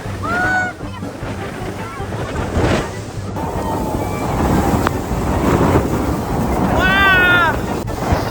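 Roaring water and gusting wind buffet a boat heading into Niagara Falls, a loud, continuous rush that builds over the ride, with excited voices crying out near the start and again near the end.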